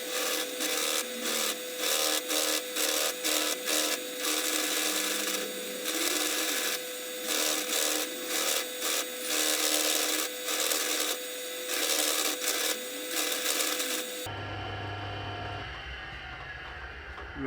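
A cheese grater rasp files a wooden guitar neck on a Telecaster build, producing rapid, rhythmic scraping strokes that repeat steadily for about fourteen seconds before stopping, followed by quieter background noise.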